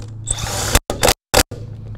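Dewalt DCF899 1/2-inch cordless impact gun driving a socket back on, with two short bursts of loud hammering rattle separated by silence, alone at close range.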